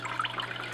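Dirty fish tank water squeezed out into a bucket, a brief close trickle and splash of liquid, quiet and continuous over less than a second.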